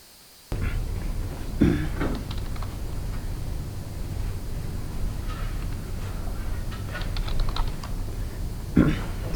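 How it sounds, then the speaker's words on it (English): Steady keyboard typing on a computer for about nine seconds, with fairly continuous key clicks that form a few louder clusters over a constant low room hum. Nobody speaks. "now I'm going to be typing a lot of stuff that isn't going to be familiar to you"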